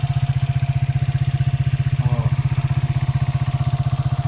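A motorcycle engine runs at a steady idle after being serviced, its rapid, even thumping pulse close and loud, with a brief faint voice partway through.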